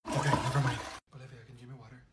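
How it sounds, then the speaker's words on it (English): A clogged toilet is flushed, a loud, close rush of water lasting about a second, followed by a voice speaking quietly. "Oh my god, I clogged the toilet."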